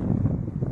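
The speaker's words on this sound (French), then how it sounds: "Mais ça va, parce qu'il y a un petit vent." Light wind blowing in Death Valley in 45-degree heat, a steady low rumbling buffet against the microphone that runs unbroken and fairly loud, with no voices.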